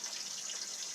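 Tap water pours into a Berkey water purifier system in a brief, soft, hissing splash that stays steady for under a second.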